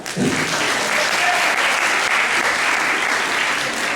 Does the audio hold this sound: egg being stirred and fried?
no